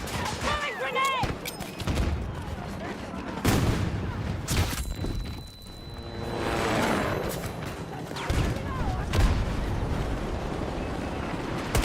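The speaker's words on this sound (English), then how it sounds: "Throwing grenade!" Grenade blasts and gunfire in Battlefield 2042, played at 1440p ultra settings: several heavy broadband booms and bursts of shots, loud and close, with game voices and chatter running through.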